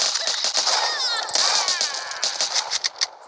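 Rapid bursts of video game gunfire crackle over a dense, noisy background, with sharp repeated shots and sweeping tones layered through.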